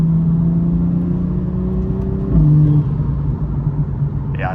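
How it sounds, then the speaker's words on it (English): A new Toyota Supra MK5 engine drones steadily under load, its pitch rising and then dropping sharply as it shifts, heard from close by with an even, smooth tone. "the car sounds very good"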